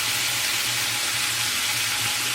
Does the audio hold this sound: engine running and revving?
no